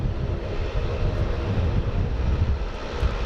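Steady, loud roar of airplane engines at Sydney Airport as aircraft prepare to taxi, a continuous deep rumble with no pauses and no talking.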